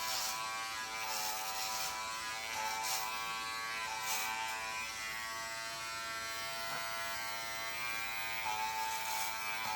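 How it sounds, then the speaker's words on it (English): An Andis electric hair clipper buzzes steadily and close up while cutting hair, a continuous high motor whine with small changes in pitch as it moves over the head, with no talk. "Just allow your clipper to flow through the shape of the head."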